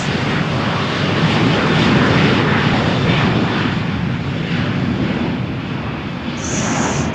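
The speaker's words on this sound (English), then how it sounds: "This is an immediate takeoff." Airliner taking off on runway 13 at Malaga Airport on a stormy morning, a loud, steady broadband engine roar with rushing air filling the whole clip at close range, and a faint high tone near the end.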